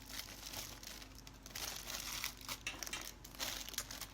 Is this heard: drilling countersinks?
no